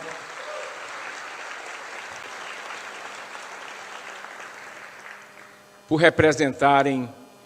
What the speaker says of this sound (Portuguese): da conselheira Regiane Sanches, a quem eu peço uma salva de palmas